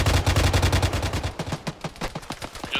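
An Mi-8 helicopter strafes with Hydra rockets in Arma 3, making a rapid, evenly spaced string of sharp bangs. The volley starts loud and dense, then the impacts thin out and grow slightly fainter toward the end.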